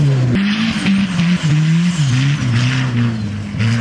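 A turbocharged Honda Civic wagon revs hard while sliding through snow, its engine note loud and close, rising and dipping with throttle, mixed with skidding tire noise.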